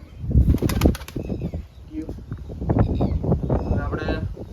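A Dubai pigeon's wings flap loudly in a quick burst at the start as it takes flight, followed by people talking nearby.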